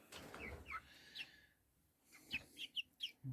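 Chickens in a small backyard flock of two roosters and seven hens, giving several short, close clucks and squawks in scattered bursts with quiet gaps between them.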